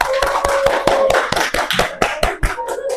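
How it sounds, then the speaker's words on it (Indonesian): In a classroom, a small group claps a dozen or so sharp, uneven strikes, sparse rather than a dense roar, with a faint steady tone lingering underneath. "Kita kasih aplaus."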